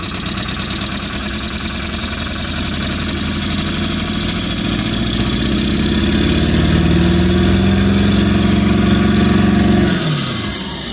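A Ford truck engine with bad fuel injectors runs loud and close, a rough, continuous drone whose pitch slowly climbs before dropping off abruptly near the end, with no talk over it.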